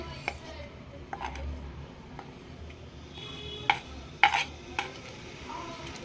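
Fried onion and garlic are tipped into an eggplant curry (badanekayi ennegayi), heard as a few scattered scrapes and light utensil clinks against the pot over a low background hum.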